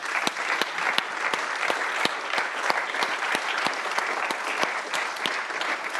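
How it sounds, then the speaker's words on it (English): Steady applause from an audience thanking volunteers and judges at an innovation day event, dense clapping sustained evenly throughout with sharp individual claps standing out near the front. "A round of applause to all of them."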